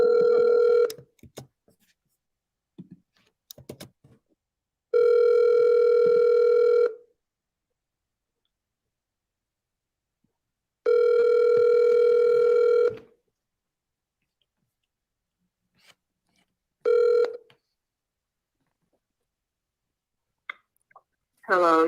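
A telephone rings back on an outgoing call, three long steady ring tones plus a shorter fourth, each about two seconds, separated by silence with faint clicks between, heard clearly through the line.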